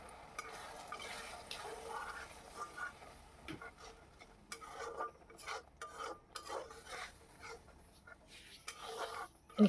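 Spice paste (masala) is stirred and fried in a pan after a splash of water, giving quiet, irregular scraping and wet sputtering clicks, faint and close, with no talking.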